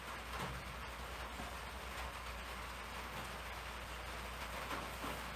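Steady rain falls outside a small workshop, making a faint, even hiss and patter with a low constant hum beneath and no voices.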